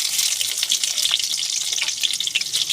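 Sliced onion drops into hot oil in a pan and gives a loud, steady crackling sizzle that carries on without pause and without talking.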